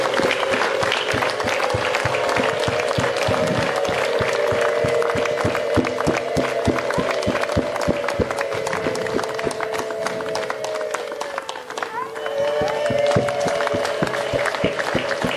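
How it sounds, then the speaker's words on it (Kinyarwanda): A church congregation claps steadily and densely throughout, with wavering high ululation calls riding over the applause, loud and close, with a brief dip near the end before the clapping swells again. "Twakire Yezu ugiye kuza dusanga n'amashyi n'impundu byinshi."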